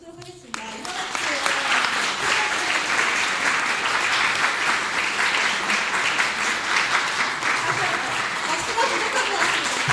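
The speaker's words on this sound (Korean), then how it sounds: "큰 박수를 치도록 하겠습니다" A concert audience in Daegu, at a recital with soprano, baritone, piano and violin, gives dense, steady applause that starts abruptly and holds at full strength for about ten seconds, close and loud.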